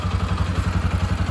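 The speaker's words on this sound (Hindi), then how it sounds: "अब मैं करता हूँ बाइक को स्टार्ट" A Bajaj Pulsar RS200/NS200 motorcycle engine idles in neutral just after starting, with a steady, rapid low thumping pulse close by and no voices.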